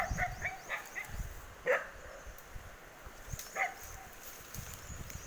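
A dog barks in short, scattered bursts at moderate distance, a few sharp barks spaced apart over a quiet, slightly noisy background.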